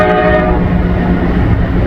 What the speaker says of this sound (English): that train's coming